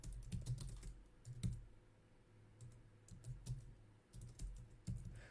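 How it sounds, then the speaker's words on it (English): Fingers type on a computer keyboard in quick irregular bursts of clicks with short pauses between, close and fairly quiet, with no talking. "I'm going to type it in there."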